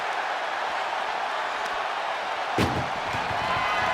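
A single heavy slam cuts through steady loud broadband noise as an ambulance door bangs shut during a wrestling match, followed by rumbling.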